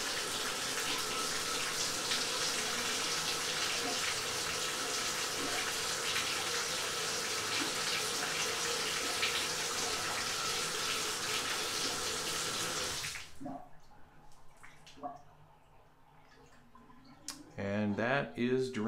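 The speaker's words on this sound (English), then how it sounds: "we'll run the water a little bit to see if in fact it's draining now" Tap water runs steadily and loudly into a just-unclogged drain for a long stretch, then stops abruptly, leaving quiet clicks and a voice speaking near the end.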